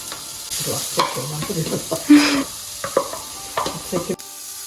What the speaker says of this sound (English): I've got freshly grated coconut, which I am frying really lightly.